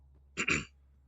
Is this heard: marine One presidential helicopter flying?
no